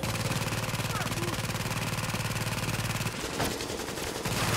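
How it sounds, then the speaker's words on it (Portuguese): An automated turret fires at an enemy in The Division's Dark Zone, a rapid, steady stream of rattling shots lasting about three seconds, then a brief pause with scattered sounds before the firing resumes. "a torreta tá acertando o cara"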